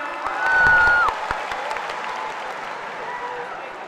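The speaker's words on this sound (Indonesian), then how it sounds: "Sekali lagi kita kasih tepuk tangan dong untuk Adera." A campus audience in Solo gives a short burst of applause and cheering that swells and fades within about a second, followed by softer crowd murmur while someone keeps talking.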